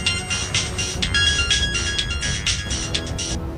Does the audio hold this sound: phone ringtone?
yes